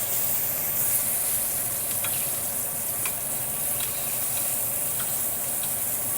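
Steak sears in a hot pan with a steady, close sizzle and hiss, dotted with faint crackling pops and no talking throughout.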